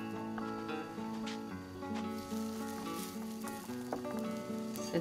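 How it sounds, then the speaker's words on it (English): A refried bean gordita cooking on a comal over medium-low heat, a soft, continuous sizzle with small pops and crackles, close and fairly quiet. "So hang tight as we continue to cook our gordita."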